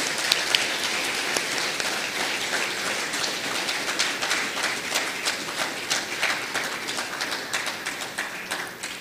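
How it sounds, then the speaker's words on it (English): An audience in St. Kitts applauds after a Prime Minister's lecture for Independence 39, giving a steady, even round of clapping that holds its level throughout with a few louder individual claps. "Batiste another round of applause."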